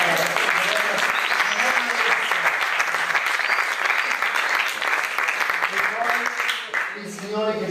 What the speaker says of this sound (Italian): Oh ragazzi, un po' un applauso.